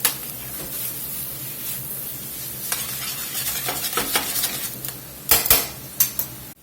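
Onions sizzle and fry in a pan for a beefy French dip, a steady close crackle with a spoon or spatula stirring and scraping, sharper clinks near the end.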